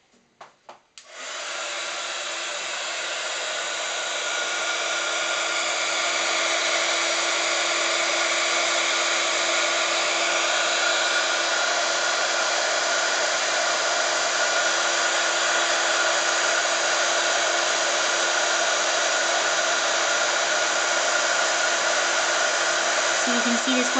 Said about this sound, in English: And then heat with your heating tool.